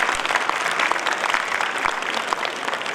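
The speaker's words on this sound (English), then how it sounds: "give them a big round of applause" Audience applause at a formal address in an auditorium, dense and steady for the full three seconds, a sustained wash of many hands clapping at even loudness with no voices over it.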